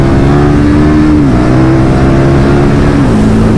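A KTM 1290 Superduke R motorcycle engine pulls hard and loud throughout, its steady droning pitch climbing then stepping down as gears change, with no voices over it.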